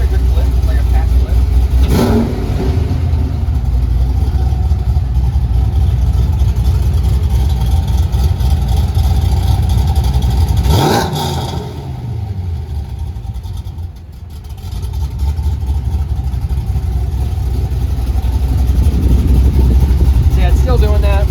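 A Firebird's 325 cubic inch engine, out of gear, runs loud and close, with sharp revs flaring early and again midway before easing into a brief lull and building back up.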